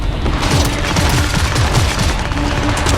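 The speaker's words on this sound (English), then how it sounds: "I am taking fire! Shoot to kill!" Rapid automatic gunfire in the video game Cyberpunk 2077, a dense continuous burst of shots and impacts filling the whole stretch, loud and close.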